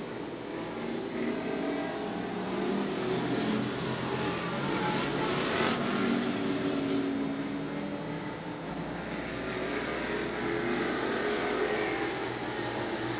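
Short track race cars roaring continuously around a dirt oval on the final laps of a Super Short Track Racing Series event, a dense, loud wash of engines that swells and fades slightly as the pack passes.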